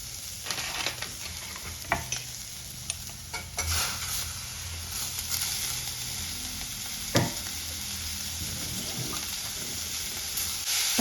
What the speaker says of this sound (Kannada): ಟೊಮೆಟೊ ಹಣ್ಣು ಕೂಡ ಫುಲ್ ಮೆತ್ತಗಾಗಬೇಕು, ಅಲ್ಲಿವರೆಗೂ ಕೂಡ ಹೀಗೇ ಹುರ್ಕೋತೀನಿ.